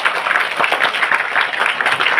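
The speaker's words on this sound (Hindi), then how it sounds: "बहुत सुंदर, जोरदार तालियां एक बार।" Vigorous applause from an audience at a school-to-gurukul havan and puja event, dense and steady clapping throughout with no voices over it.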